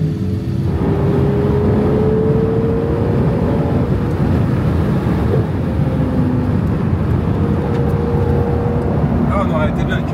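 A Ferrari 812 Competizione with its V12 drones loud and steady from inside the car, a low constant engine and road roar with faint rising tones, while people talk over it.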